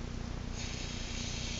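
Chain lube sprays steadily from an aerosol can onto a motorcycle chain, a continuous close, loud hiss that holds evenly throughout with no pauses.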